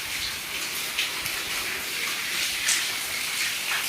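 Continuous rush of rainwater flowing after heavy night rain, with light splashing and dripping, steady and moderately close.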